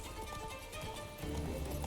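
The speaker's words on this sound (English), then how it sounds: "Horse is kicking us, but it doesn't seem like it's doing much damage." In The Witcher 3, a horse kicks and stamps, giving a few hoof thuds and clops close by against a busy game soundscape.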